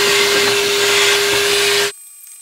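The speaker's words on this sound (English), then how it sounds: "I'm actually gonna vacuum all the debris out" A loud, roaring vacuum cleaner runs steadily up close, sucking debris from around a Ferrari 458 engine with the valve covers removed, then cuts off abruptly, leaving near silence.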